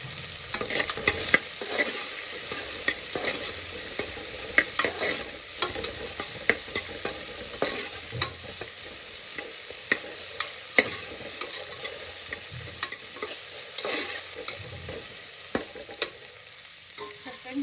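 Onions, potatoes and carrots fry in a pan while being stirred, giving a continuous close sizzle broken by repeated scraping and clacking strokes of a spoon across the pan, no voices.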